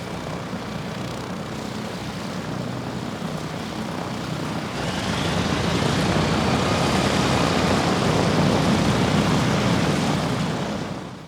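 Restored vintage propeller aircraft engine at an air show, a loud, steady droning roar that swells louder midway and holds, with no talking.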